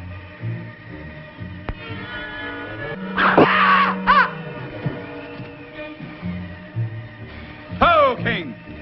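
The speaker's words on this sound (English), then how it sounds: "Scream came from the valley." A scream rings out from a valley in an old, muffled radio drama set in the Yukon wilderness: two drawn-out, wavering cries, one in the middle and one near the end, over a low background.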